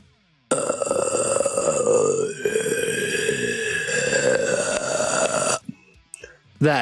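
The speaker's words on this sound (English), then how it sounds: "The first is the vocal fry. It's that cracking sound when you just wake up" A low, creaky vocal fry drawn out for several seconds, a rattling voiced crackle that slowly shifts pitch before trailing off.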